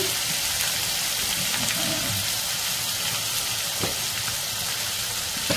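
Chopped onion fries in hot oil in a pan for a tomato and amaranth curry, giving a steady, dense close sizzle with a few faint stirring knocks and no voices.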